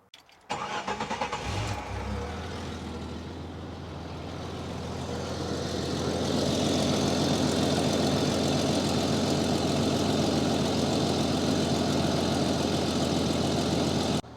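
A car engine cranks and starts, then settles into a steady running idle that grows slightly louder and holds, close and continuous, with no talk.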